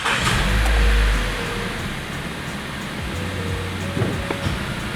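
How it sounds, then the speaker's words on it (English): A Mazda CX-5 (2013–2016) starts up, with a brief loud low cranking and catch around the first second, then settling into a steady, fairly close idle hum. "I just want to show you turning the vehicle on"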